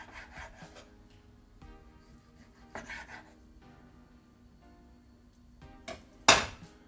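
A knife slices thin pieces of cooked meat on a board for a cold meze, giving soft scraping and rubbing strokes with pauses and a sharper clack at the end.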